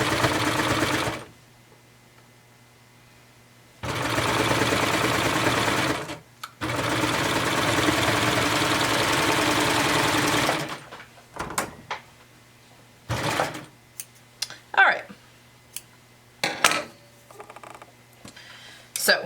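A serger stitches fabric in three loud, steady machine runs of a few seconds each, with short pauses between them. Quieter handling clicks and rustles follow after the machine stops.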